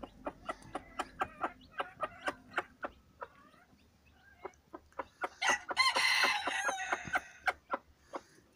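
A hen makes rapid, rhythmic clucks to call her chicks to feed, close and distinct, with a burst of higher chick peeping and squawking in the middle before the steady clucking resumes.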